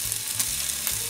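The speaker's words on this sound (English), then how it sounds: "You'll hear it sizzling very shortly." A Kransky sausage sizzles steadily in a Tefal Cook4Me pot, a close, continuous hissing crackle of fat frying with faint stirring bumps underneath and no voices.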